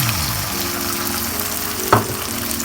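Prawns frying in oil with chili sambal, stirred in a pan: a continuous close sizzle with a low hum under it and a single sharp scrape of the utensil near the end.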